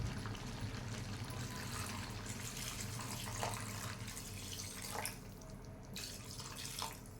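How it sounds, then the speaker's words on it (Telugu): Steady running water pours continuously into a pot of goat-head curry, a close, broadband rush with a few brief splashy bursts near the end. "దీనికి వాటర్ కొద్దిగా యాడ్ చేసుకోవాలి"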